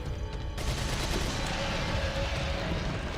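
A TMP submachine gun in Resident Evil 4 rattles off a sustained rapid burst of automatic fire that runs loud and unbroken for several seconds.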